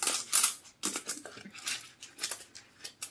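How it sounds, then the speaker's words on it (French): Ten euros in loose coins are handled in an envelope, producing scattered, close metallic clinks and jingles in short irregular bursts with quiet gaps between them. "Et il y a 10 euros en pièces dans l'enveloppe"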